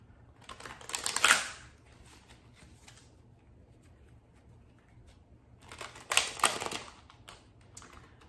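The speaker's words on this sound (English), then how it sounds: "When I cut the deck, we had surrender and sensuality." An oracle card deck is shuffled and cut in two brief, papery riffling bursts a few seconds apart, close by, with quiet in between and no talking.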